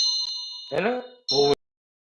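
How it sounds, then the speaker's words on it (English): A hand bell rings close and loud with bright, sustained metallic tones, struck several times in quick succession before the sound cuts off abruptly into silence. "this action of holding the bell, ringing it,"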